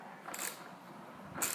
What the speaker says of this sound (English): If you don't hear a crescent wrench, you're not working.